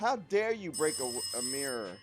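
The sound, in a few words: phone ringing in VR game Rise of Insanity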